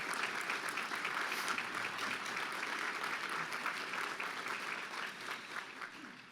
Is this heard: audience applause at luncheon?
yes